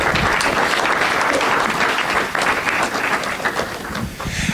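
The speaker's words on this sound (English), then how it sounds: "give yourselves a round of applause" A crowd applauds steadily, dense clapping filling the whole stretch without a break, fairly loud and close.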